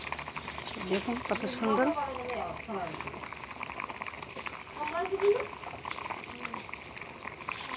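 Phuluri fritters fry in hot oil with a soft, steady sizzle and bubbling hiss throughout, while someone talks over it.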